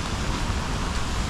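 Heavy rain falls on an outdoor path, a dense continuous hiss of broadband noise with no pauses, close and steady throughout.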